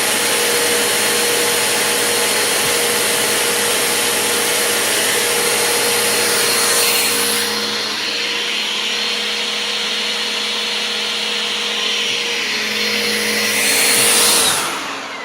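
A Bissell Powerforce Compact vacuum cleaner runs with its brush roll spinning, a loud steady motor whine with a bright high-pitched tone. It eases slightly midway, then surges again near the end before cutting off, with no talk.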